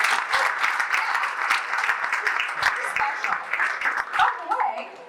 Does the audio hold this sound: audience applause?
yes